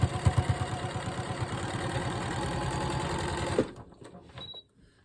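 A sewing machine stitches a beginner's nine-patch quilt block, running in a fast steady mechanical whir for about three and a half seconds before stopping. Light handling sounds follow.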